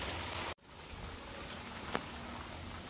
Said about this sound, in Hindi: तो देखिए कितना प्यारा बारिश हो रहा है